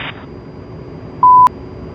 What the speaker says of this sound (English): That annoying beeping you're now hearing is Morse code for LAS, which is the station ID for the Las Vegas VORTAC.